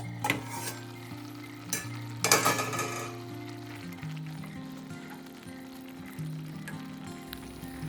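Prawn curry with bird's eye chilli on the stove gives a soft steady bubbling sizzle, with a few spoon scrapes and stirring clatters early on, close by and moderately quiet.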